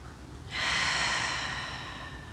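A single deep, audible breath taken during a yoga back stretch swells in suddenly, then eases off slowly, close and clear with nothing else over it.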